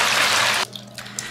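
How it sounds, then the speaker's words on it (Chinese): Water pours loudly from a tap into a bowl to wash dough for gluten, a close gushing stream that stops abruptly after about half a second, followed by faint splashes and drips. "倒水继续洗。"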